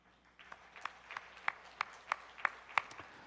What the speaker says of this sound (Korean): 우리 내외가 미국에서 박수 한번 쳐주세요.